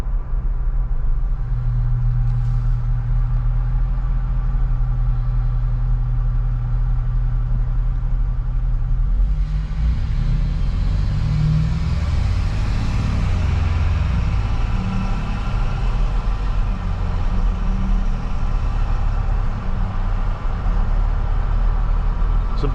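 A Ford Bronco driving at night on city streets: a loud, continuous low engine rumble that swells partway through as the truck accelerates, then settles into a steady drone.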